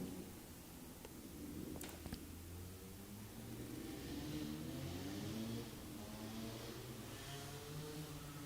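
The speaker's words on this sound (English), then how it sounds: "Just hearing those motorcycles up the road" Engines of motorcycles hum and rise faintly in the distance, passing along a road, with quiet rustling nearby.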